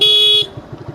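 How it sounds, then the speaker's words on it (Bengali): A motorcycle horn honks loud and close in one long sustained blast while riding on a village road, then cuts off, leaving a low engine rumble and road noise. "সেফ রাইড করতে হলে হরেন দিতেই হবে।"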